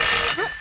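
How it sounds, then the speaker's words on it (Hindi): A telephone rings at a police station in a 1990s Hindi film, a single bright electronic ring burst that fades out quickly, loud and alone. "उधर टेलीफोन।"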